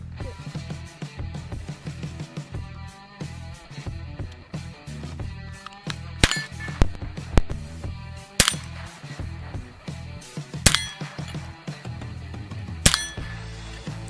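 Gunshots at an outdoor range of metal targets, several sharp loud reports spaced seconds apart over a busy background, each followed by a bright ringing ping off steel.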